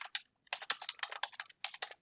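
Quick keyboard typing, a burst of clicky keystrokes in an uneven rhythm, close and clear in an otherwise silent room.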